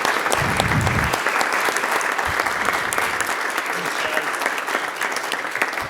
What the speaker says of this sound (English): give Senator Stevenson and Ibsen a great round of applause for their great work on the budget